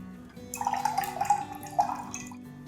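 Water is poured into a container to start a wood stain mix before the VLW 306M binder goes in, giving a splashy, gurgling trickle that builds over about two seconds, close and clear, with no voices.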